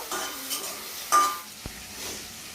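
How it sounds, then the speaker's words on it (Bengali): Salted mutton pieces stirred in a pan, with a few soft scraping strokes, a faint sizzle and one sharp metallic clink of utensil on pan, quiet and close with no talking. "নুনটা দিয়ে দিলাম, ভালো করে নেড়ে চেড়ে দেবো"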